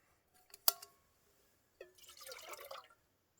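About a cup and a half of water is poured from a cup into a camping pot outdoors. A sharp knock comes first, then after a pause a short splashing pour of about a second, close and clear, with no talking.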